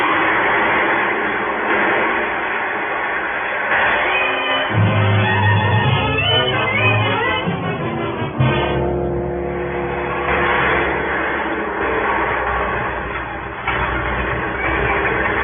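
A roller coaster ride, played as a sound effect in an old-time radio crime drama: a loud, continuous mechanical rumble and clatter of cars on the track that swells and shifts over fifteen seconds, with no voices.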